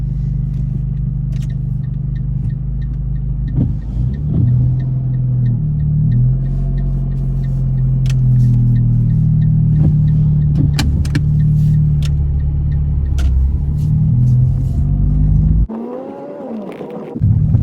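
A car engine rumbles close and loud inside the cabin as the car pulls away during a driving test in Tottenham, the tone rising as it accelerates, with small clicks and knocks over the hum.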